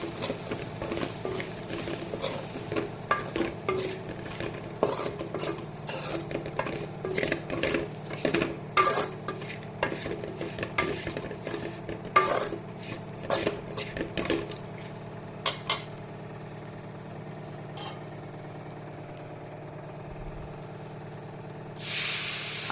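Spices, chilli powder, turmeric and salt being stirred in a cooking pan for a Tamil rock fish curry, with repeated scraping and clinking of a spoon against metal, steady and close, ending in a brief louder hiss.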